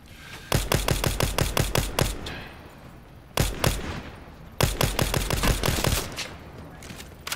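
Rapid bursts of video game gunfire crack out in dense, loud volleys, with two long strings of shots separated by a brief lull and a final quick burst.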